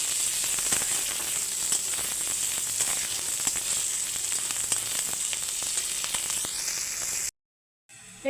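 Steady close sizzling of onions frying in a pan with cut chillies, with light crackle and occasional stirring, before a brief cut to near silence at the end.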